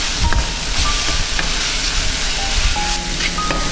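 A tomato and chicken gravy base for Kongu-style chicken curry sizzles as it sautés in a pan, a continuous close crackle with occasional stirring scrapes.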